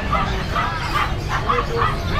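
A small white Pomeranian yaps in short, repeated barks over a steady background murmur, fairly close.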